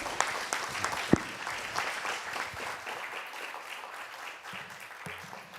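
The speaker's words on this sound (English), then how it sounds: "A big round of applause for our last 2 grantees to chat." Audience applause fills a summit hall, steady clapping from a sizable crowd with a few sharper claps standing out, sustained throughout and slowly tapering toward the end.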